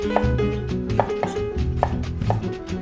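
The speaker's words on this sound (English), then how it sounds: "Chop the pulp up roughly." Knife rapidly chopping tomato pulp on a cutting board, a quick run of close, crisp taps with no talking, with background music heard underneath.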